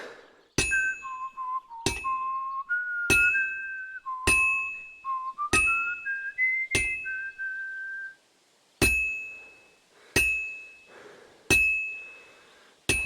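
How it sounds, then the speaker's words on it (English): Metal hammered on an anvil at a smithy in Kingdom Come: Deliverance II: about ten sharp, evenly spaced ringing strikes, with a sliding whistle-like tone drifting between the early blows. "I have to hammer it more evenly"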